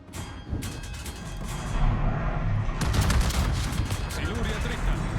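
Naval gunfire from a Yamagiri destroyer's burst fire against an Orage in World of Warships: dense, loud volleys of cannon shots crowd together in rapid bursts, carrying on steadily for several seconds with no pause.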